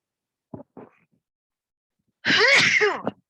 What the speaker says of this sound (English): Pardon me, that was my sneeze, sorry.